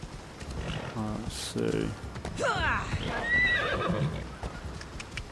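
A horse in Assassin's Creed Odyssey moves with clip-clopping hooves, snorts and neighs loudly while someone talks briefly over it.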